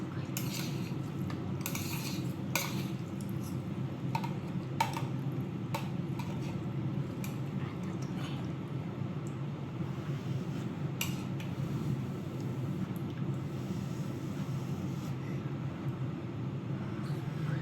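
Maggi noodles being mixed in a bowl with chopsticks or a fork, giving light, scattered clinks and taps over a steady background hum, with no talking.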